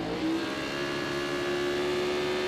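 Formula Pacific race cars rev their engines on the grid at the start of a race final, a continuous loud mechanical roar with a rising engine tone holding steady through the clip.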